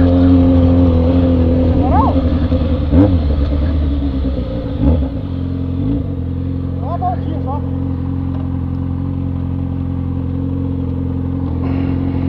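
A Honda Tornado motorcycle engine rumbles loudly and steadily close by, with a few sharp throttle blips early on before settling into a constant drone.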